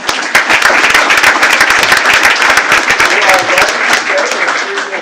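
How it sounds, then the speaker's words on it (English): Loud, sustained applause from an audience at a school board of trustees meeting, dense clapping filling the room steadily for the whole stretch, with a few voices faintly mixed in. "let's give these guys one more big round of applause"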